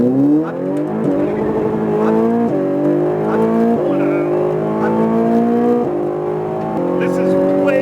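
A race car driven hard around the track at Speed Vegas, its engine note loud and close, climbing steadily through each gear with brief dips at the shifts, continuous throughout.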